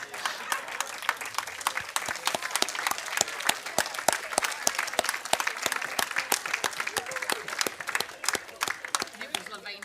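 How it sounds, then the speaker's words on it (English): Audience at the Dogs NZ Annual Conference of Delegates applauds first-time attendees standing up, a steady room-filling wash of many hands clapping that runs for the full stretch and thins slightly at the end. "give them a big round of applause"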